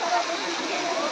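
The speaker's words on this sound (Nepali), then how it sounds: "यो लहराको पानीहरू चट्टानबाट आएको पानी हो" Water from a waterfall spills over rocks in a steady, dense, close rush of hissing and splashing that continues without a break.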